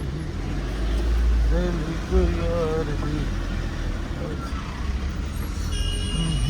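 Road traffic at a main intersection in Manali, with a steady rumble of cars and heavier vehicles passing nearby while someone talks over it.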